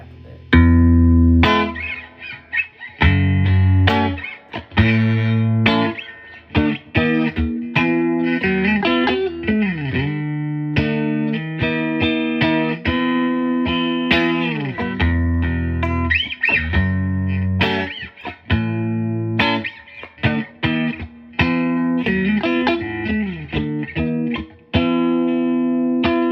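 An electric guitar plays through a handwired 1964 Fender Princeton Reverb amp with the volume just above 3, so the tone breaks up slightly. Chords and single notes come close and fairly loud, with occasional pauses between phrases.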